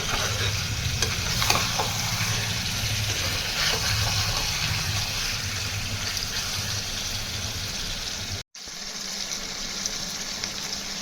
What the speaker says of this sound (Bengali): পেঁয়াজের সঙ্গে বেশ কিছুক্ষণ ধরে এই মেটে আর হজমিগুলোকে ভালো করে ভেজে নিতে হবে।